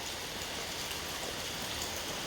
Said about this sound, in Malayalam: മഴയാ, മഴ, ശിവക്കുട്ട മഴ, മഴ.